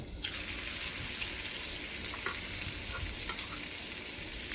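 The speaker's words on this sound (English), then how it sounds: "salmon, pretty thin, but the trick to keeping it moist is a hot, hot pan" Thin salmon fillets hitting a very hot pan, a sudden loud sizzle that settles into a continuous, even hiss of frying, close by and without talking.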